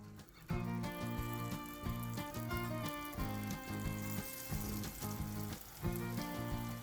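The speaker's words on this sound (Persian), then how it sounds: "از مایع شیرینی به شکل دلخواهتون بریزین تو روغن و سرخش کنین" Zulbia batter frying in hot oil gives a continuous, fairly quiet sizzle heard beneath loud, rhythmic background music.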